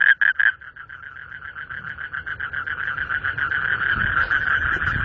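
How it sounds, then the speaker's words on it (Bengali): A frog calls loudly at night beside water, a rapid pulsing croak repeating close by in a steady stream, with a faint rustling background and no speech. "আর ব্যাঙের ডাক শুনতে পাবেন।"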